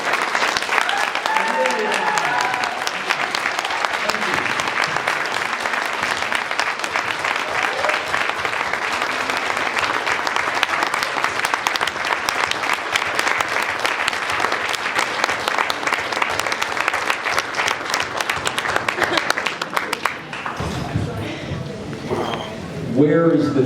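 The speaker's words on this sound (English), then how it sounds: "Greatly, a round of applause." Sustained applause from a convention panel audience at a Transformers fan event fills the room for about twenty seconds at steady loudness, with voices mixed in, before thinning out near the end.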